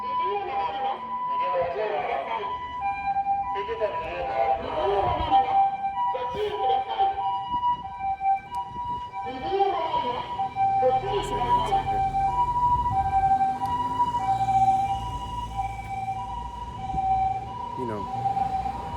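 An ambulance siren in Japan wails steadily in the distance while a person talks over it, the tone rising and falling throughout.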